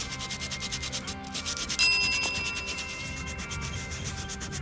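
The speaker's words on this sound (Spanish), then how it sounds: "una lija de agua de 360 para quitar la capa cristalizada" Continuous rhythmic rubbing of 360-grit wet sandpaper against glazed brake pads, a scratchy back-and-forth with a brief metallic ring partway through.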